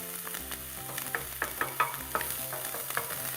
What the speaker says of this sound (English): To saute in that lovely buttery ghee.